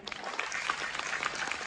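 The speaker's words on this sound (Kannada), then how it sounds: "ಒಂದ್ಸರಿ ಎಲ್ಲ ಜೆಂಟ್ಸ್, ಮೆನ್, ಬಾಯ್ಸ್ ಒಂದ್ಸರಿ ಜೋರಾದ ಚಪ್ಪಾಳೆ" Loud, dense applause from an audience of men at a Kannada musical event, a continuous rapid patter of many hands clapping close by, with no talking over it.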